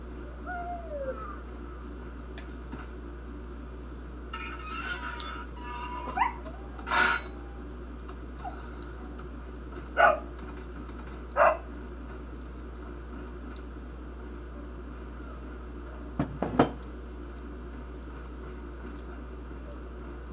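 In Resident Evil 4 on the Wii, a few short, sharp animal calls that fit a dog barking sound at scattered moments over a steady low game hum.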